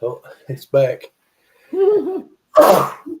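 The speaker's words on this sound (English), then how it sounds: "hold on, I'm gonna sneeze." A single loud, sharp human sneeze bursts out close by after a few short spoken words.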